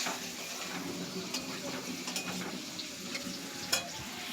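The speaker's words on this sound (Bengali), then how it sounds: "দেখুন আমার আলুটা কষানো হচ্ছে" Potatoes stir-fry in a pan for a fish curry, with a steady close sizzle of hot oil, light scraping of a spatula and a few faint clinks, uninterrupted throughout.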